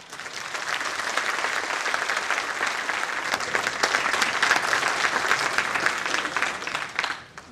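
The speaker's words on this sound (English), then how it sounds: "Let us welcome Professor Magoha with an applause." Sustained audience applause welcoming a professor to the podium at a book launch, a loud, even roar of many clapping hands that holds for several seconds before tapering off quickly.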